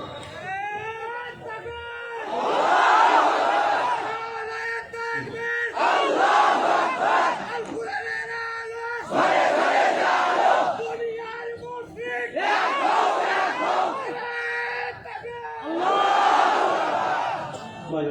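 A large crowd at an Islamic lecture loudly shouts the takbir, Allahu Akbar, in five or six roaring collective waves separated by brief lulls.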